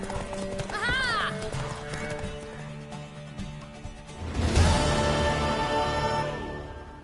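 A horse in the Witcher 3 video game whinnies once, and then hooves clip-clop steadily nearby over background game sounds.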